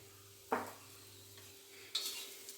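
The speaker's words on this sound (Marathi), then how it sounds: "सगळं मिश्रण चांगलं हलवून घेऊया, परतून घेऊया" A spice mixture with crushed peanut powder and salt being stirred in a pan, two quiet scraping stirs a little over a second apart under a low background hum, faint and without speech.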